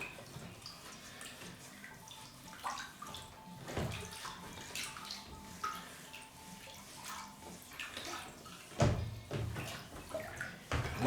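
Old parts from an 1865 Forster & Andrews pipe organ being put into water to soak, with quiet close sloshes, trickles and light knocks, and a heavier splash and clunk near the end.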